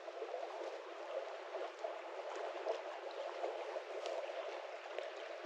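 The Green River rushes steadily beside a camping spot, a soft, even wash of flowing water with faint gurgles, continuous and moderately distant.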